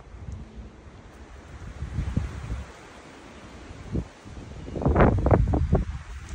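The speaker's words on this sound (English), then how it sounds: "It's a chilly, windy day." Wind on a chilly day on the Appalachian Trail in the Smokies rushes and buffets the microphone, with gusts that swell and ebb and a louder rustling gust near the end.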